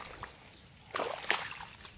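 Footsteps splash through shallow water puddles on a damp forest footpath, a soft slosh early then a louder burst of splashing midway, fairly close and otherwise quiet.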